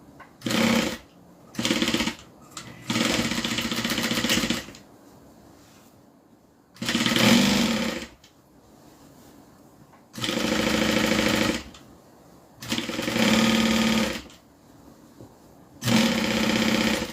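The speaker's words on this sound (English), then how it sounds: "I like to start right around the side so that I can sew these down, and then I'm going to back stitch." A sewing machine stitching the seam of a drawstring dust bag runs in repeated bursts, short quick runs, then longer steady whirring stretches separated by quiet pauses, loud and close.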